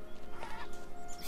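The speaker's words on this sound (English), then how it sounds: "and a chicken that attacks Gorn" Chickens clucking in the video game Gothic 3 during melee combat, a fowl's busy clucks and squawks repeating close up over a constant game backdrop.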